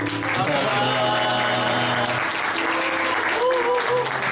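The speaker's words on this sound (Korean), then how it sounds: "우리 촛불 꺼주실 때 큰 박수로 감사합니다." A youth-service congregation in a church applauds loudly for several seconds in a dense, continuous burst, with a sustained musical tone running underneath.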